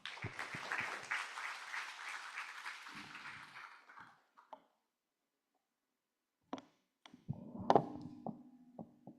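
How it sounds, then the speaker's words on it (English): At a university civil engineering seminar and awards event, a crowd's applause rattles for about four seconds and then fades, followed by near silence and a few scattered knocks and clicks. "let's give one more round of big applause to Mr."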